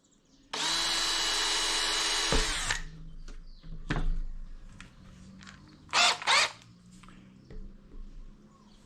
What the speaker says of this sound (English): I marked where I'm gonna drill the pilot holes.